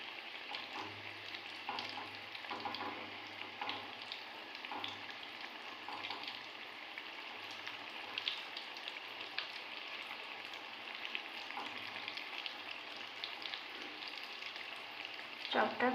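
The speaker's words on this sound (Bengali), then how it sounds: "চপটা প্রায় হালকা ফ্লেমে ভাজছি" Vegetable chops frying in oil over a very low gas flame give a steady, soft sizzle that runs throughout, with light spatter and occasional faint movement in the pan.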